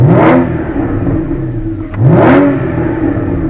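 A Porsche Spyder engine with Akrapovic sport exhaust engaged revs hard twice in quick succession, each blip rising sharply then falling back to a loud, rumbling idle with a throaty exhaust; the engine is cold.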